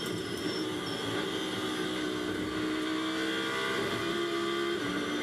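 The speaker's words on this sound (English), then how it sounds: "Yeah, he's had to go down the gear" A GT race car at the Valencia circuit downshifts and lifts off under braking, its engine note a continuous loud, dense roar with shifting tonal bands, steady throughout and free of talk.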